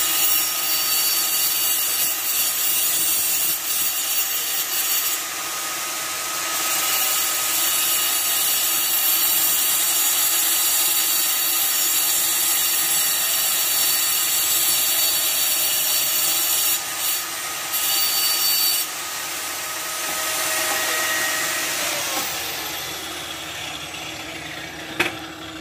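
A Central Pneumatic air-powered tool cleaning carbon deposits from a 3.5L EcoBoost engine with 120k miles, a loud continuous hissing, abrasive whir running throughout with slight shifts in intensity.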